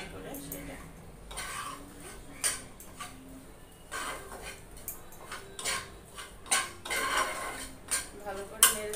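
A spoon scrapes and clinks against a pan as sliced onions and green chilies get stirred for a flattened-rice and egg fry, giving irregular soft metallic knocks that grow louder toward the end, with a voice speaking over them.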